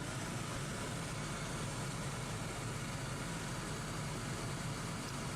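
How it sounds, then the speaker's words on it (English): A car's blower motor runs on its high setting, a steady broadband whooshing hum that stays constant and fairly quiet throughout with no talk. "We are going to run the blower motor on high and capture amperage"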